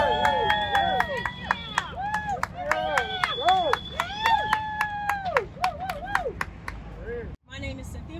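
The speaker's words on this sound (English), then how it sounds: "So please give a huge round of applause to my sister" Applause and cheering from a crowd at a union rally of nurses, welcoming a speaker; steady clapping runs throughout while loud whistles and voices rise over it, then cuts off abruptly near the end.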